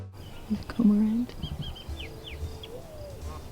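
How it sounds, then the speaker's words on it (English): Outdoor birdsong at a wildlife refuge marsh, with Bullock's orioles, mourning doves and red-winged blackbirds calling: low cooing notes and a drawn-out call up front, then scattered high chirps and sliding whistles at moderate distance. "You can hear the bullock's orioles, mourning doves, red-winged blackbirds."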